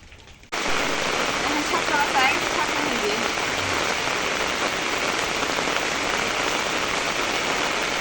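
Steady rain pours down outdoors in a dense, even hiss that starts abruptly after a brief quieter moment and continues loud and unbroken, with a faint voice beneath.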